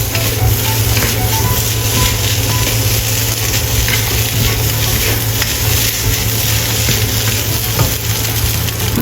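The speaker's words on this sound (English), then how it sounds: "Stir fry until fragrant." Egg fried rice with crabstick sizzling loudly as it is stir-fried in a hot pan, a dense, steady, close hiss and crackle that never lets up, with no voices.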